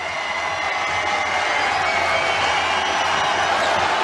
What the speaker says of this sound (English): And they applaud him back.